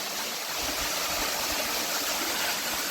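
A waterfall pours into a deep pool beneath a tree along a hill trail on the Narmada pilgrimage route, giving a steady, close, full rush of falling water with no voices.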